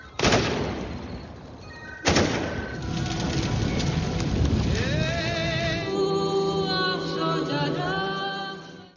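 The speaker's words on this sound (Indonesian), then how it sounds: "Bahkan salah satu tentara Rusia tak sengaja menembakkan senjatanya tepat ke arah posisi Vasya" Gunfire in a war film scene with Russian soldiers: two sharp, loud bursts ring out, followed by a dense, rumbling battle din with ringing tones, and no speech.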